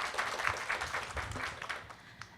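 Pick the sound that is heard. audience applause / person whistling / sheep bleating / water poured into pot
audience applause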